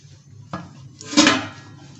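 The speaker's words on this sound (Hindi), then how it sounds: "हमने रख लिया है बर्तन" A metal cooking pot is set down on a stovetop to preheat for baking chicken bread, giving one knock and then a louder clattering clunk of metal against metal over a steady background hum.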